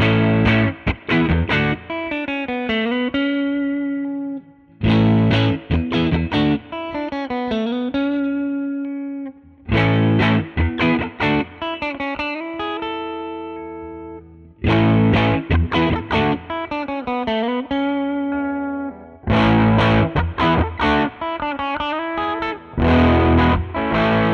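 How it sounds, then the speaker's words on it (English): Overdriven Sterling Cutlass CT20 electric guitar with a thick humbucker tone, strummed chords and riffs repeated in phrases with brief pauses between them. "I do prefer the sound of this guitar a little bit more overdriven"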